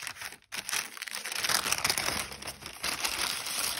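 Paper crinkles and rustles as a Christmas present is unwrapped, with busy crackling and tearing textures running almost continuously after a brief pause near the start.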